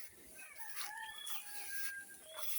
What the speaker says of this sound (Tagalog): Naririnig nyo yung mga huni ng ibon nagchichismisan.